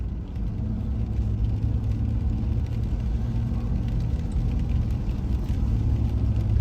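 A car driving along the Herring Cove road, a steady, loud low rumble of tires and engine throughout with no talking.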